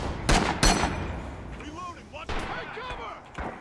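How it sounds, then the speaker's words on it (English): Frag grenade detonation amid rifle fire in the shooter game Rising Storm, two sharp loud bangs early followed by quieter shots and crackle, with game voices and radio chatter underneath. "So assist, we're gonna throw a frag."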